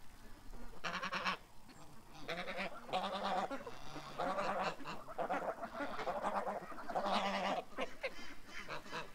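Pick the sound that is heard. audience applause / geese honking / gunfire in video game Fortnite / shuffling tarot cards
geese honking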